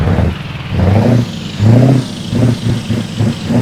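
A fully loaded Scania truck engine in Euro Truck Simulator 2 cranks and revs in uneven surges, loud and close, rising and falling several times with no voices.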